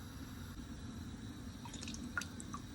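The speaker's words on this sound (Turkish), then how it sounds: "Ben de elma sirkesi var o yüzden elma koyacağım." A small splash of apple cider vinegar goes into a dish for lentil nachos, heard as a few faint drips and trickles over a quiet room hum.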